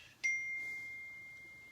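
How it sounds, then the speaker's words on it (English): A mobile phone notification sounds once, a single bright ding that rings out and slowly fades over quiet room background. "Sorry about my phone going off."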